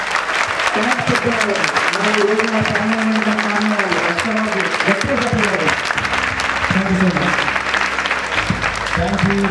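A youth camp audience claps loudly and steadily for pastors, a dense, sustained burst of applause close by while a voice speaks and calls out over it.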